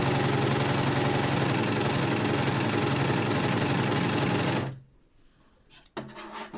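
A Success Celine coverstitch machine runs steadily through thick vintage terry fabric, a loud continuous mechanical hum for about four and a half seconds, then stops abruptly, followed by faint handling clicks and rustle.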